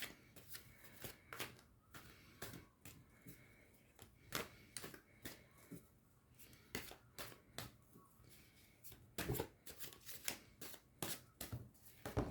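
Tarot cards being shuffled by hand, repeated quick riffling and slapping bursts at an irregular pace, close and fairly quiet, with no talking.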